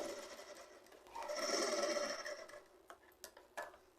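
A sewing machine stitches folded fabric in a close, quiet room, running in one short whirring burst that rises and fades, followed by a few light mechanical ticks.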